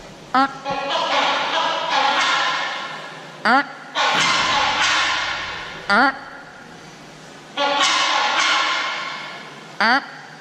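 A large bird at a zoo bird house mimics a chainsaw, producing loud sustained buzzing bursts broken by short sharp chirps, repeating several times close by with people talking over it.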